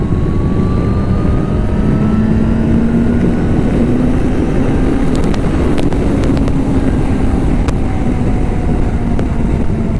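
A Yamaha Fazer 600 motorcycle's steady, roaring engine drone with rushing wind noise, its pitch slowly rising and falling as it cruises along.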